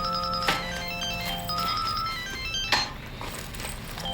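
An old-style telephone ringtone chiming in repeated bright electronic tones close by, with clinking background noise and no talk.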